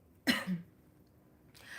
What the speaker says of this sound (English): I'm coughing because I had jalapenos.